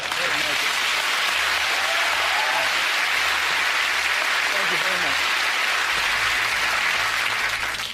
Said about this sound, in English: I'd like to thank you all for your kind applause and appreciation